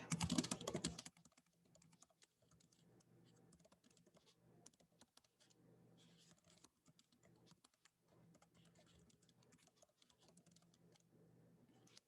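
Typing on a computer keyboard, a quiet, steady patter of light key taps running for several seconds after a brief louder rustle at the start, with no talk.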